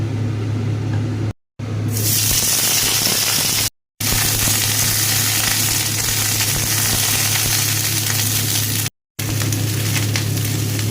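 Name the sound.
cauliflower frying in a little oil in a wok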